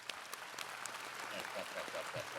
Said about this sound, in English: I hear people clapping.